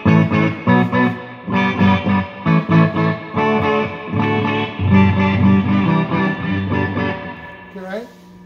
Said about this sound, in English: We're doing a demo on an echoplex for somebody on reverb.